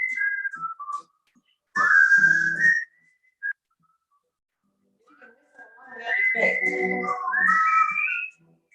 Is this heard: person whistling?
yes